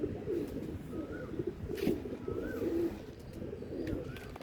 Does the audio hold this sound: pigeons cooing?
yes